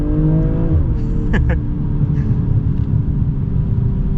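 A 2023 BMW M440i xDrive engine rumbles steadily, its pitch dipping then holding as the car accelerates forward, with a few faint sharp ticks over the drone.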